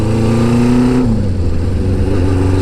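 Honda CB550 motorcycle accelerating on a test ride: a loud, steady engine drone that steps down in pitch as it shifts, close and continuous, with no talk.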